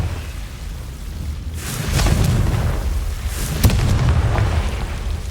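A Confringo blast spell explodes in the video game Hogwarts Legacy, a rumbling burst building midway and a sharp crack near the later part, close and fairly loud over steady low background noise.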